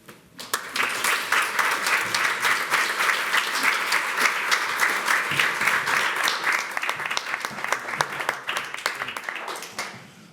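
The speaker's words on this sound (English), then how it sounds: "I'd like to just applaud all our speakers" An audience at a monitoring network launch event applauds the speakers with dense, sustained clapping that swells quickly and holds steady for about ten seconds before tapering off, with no voices over it.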